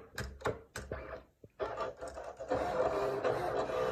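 A Silhouette cutting machine works through a printed sheet, giving a few sharp mechanical clicks and whirs before settling into a steady, close motor buzz of the cutting carriage.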